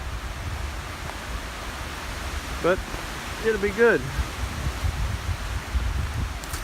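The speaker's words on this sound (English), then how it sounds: "A little windy" Broadband wind noise rushes and buffets steadily outdoors in the morning on the Ouachita Trail, with a brief spoken phrase partway through.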